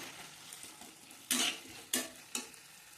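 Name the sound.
stirring chopped capsicum in a frying pan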